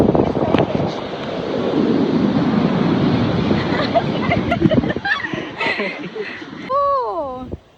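Ocean surf rolls onto a Kerala beach at Azhimala under heavy wind buffeting, with voices and chuckling over the waves and a rising whistle-like tone near the end.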